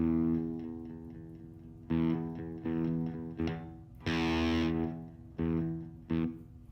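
Fender Mustang LT40 guitar amp with its metal gate noise gate engaged, heavy distorted chords chopping off abruptly into silence between strums, loud and close, with several sharp cutoffs.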